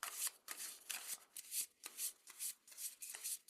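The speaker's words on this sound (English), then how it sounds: "I'm going to shuffle." Oracle cards are shuffled by hand in quick, rhythmic riffles, a crisp papery flutter repeating roughly twice a second, close but soft, with no voices.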